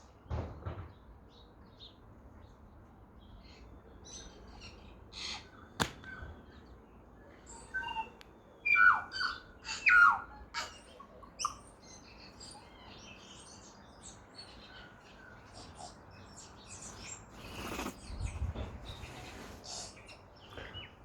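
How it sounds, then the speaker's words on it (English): Tui and other small birds, wax eyes among them, call in a garden with a wood pigeon up in a tree: scattered bright chirps and whistles, some close and louder in short bursts, over a steady low outdoor background. "Oh, so many pretty little birds in this garden."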